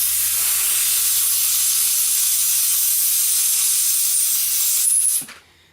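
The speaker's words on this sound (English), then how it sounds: "So I'm just going to give her a little blast of cleaner here." Aerosol cleaner sprays onto a chainsaw carburetor in one steady, loud, close hiss that lasts about five seconds, then cuts off abruptly, with no voices.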